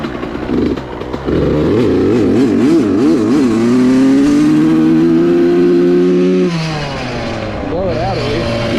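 A Suzuki RM85 dirt bike engine while riding, warmed up but running poorly, buzzes loud and close, wavering and surging in pitch before settling into a steady higher drone.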